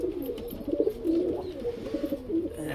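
High-flyer pigeons coo close by in a run of soft, throaty coos that repeat in a loose rhythm, with no talking over them.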